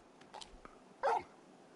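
Torgal, the big dog in Final Fantasy XVI, gives a few soft, quiet whimpers and yips, ending in a single short, sharper bark.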